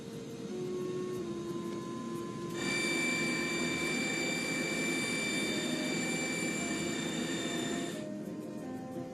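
Comair jet airliner engines spooling up for takeoff on the runway, a steady broad roar with high whining tones that swells, holds and then eases slightly, heard from inside the aircraft.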